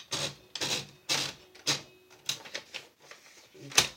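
Paper is fed into a Royal Epoch typewriter, with close mechanical clacks and ratcheting clicks of the platen knob in uneven bursts, plus a sharper snap near the end and a voice talking over it.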